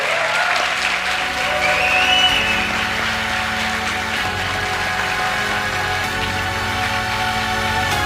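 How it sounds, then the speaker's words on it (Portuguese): Audience applause for Mara, a trans columnist and author, at a trans panel event, a steady sustained wash of clapping filling the room for several seconds with a faint musical tone underneath. "Palmas para a Mara."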